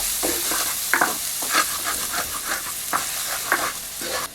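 Sliced onions fry over lowered heat in a pan holding the browned crust left by a beef steak, with steady sizzling broken by repeated scraping stirs.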